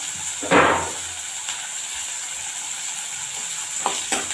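Dried red chillies sauté in a pan for spicy kara chutney, giving a steady soft sizzle with a louder stirring scrape near the start and a couple of brief clinks toward the end.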